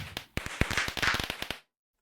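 Fireworks in the modded Minecraft pack GregTech New Horizons give a rapid burst of sharp crackles and pops that stop abruptly into silence.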